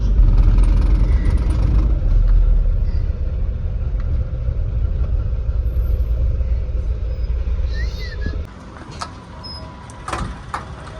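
A car's engine hums and rumbles loudly and close as the vehicle pulls up to a fuel pump for diesel, then the engine note drops away to quieter ambient sounds with faint clicks.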